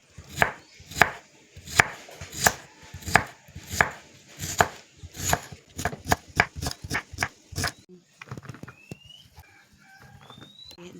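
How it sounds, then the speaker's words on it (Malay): Two shallots are chopped into pieces with a knife on a board, giving a steady run of crisp, close, evenly spaced thuds that quicken near the end before fading into faint background sounds. "Potong-potong."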